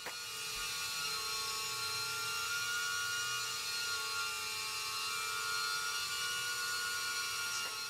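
BetaFPV Pavo20 Pro FPV drone in flight, a steady high-pitched whirring buzz of small propellers, constant and unbroken throughout at moderate level.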